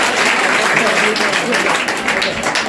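Many hands clap together at a general knowledge quiz competition, a short, steady burst of audience applause while someone speaks over it.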